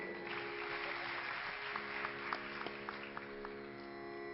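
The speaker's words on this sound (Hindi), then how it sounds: "इसके लिए जोरदार ताली बजाइए," Audience applause at a live Hindi Geet Ramayan music performance with harmonium and rhythm accompaniment, a steady wash of many hands clapping heard from a distance, with a few sharper individual claps standing out.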